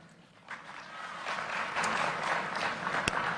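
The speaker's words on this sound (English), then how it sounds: "You can barely hear the applause." Faint, distant applause at a political campaign speech, a thin wash of scattered clapping that rises slightly and holds at low volume, with a single sharp tap near the end.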